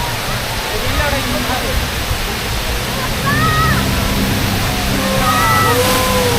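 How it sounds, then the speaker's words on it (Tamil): Water from a fountain show at Expo City Dubai rushes and splashes in a loud, continuous roar, growing heavier partway through, with people talking faintly nearby. "தண்ணி அடிக்குது."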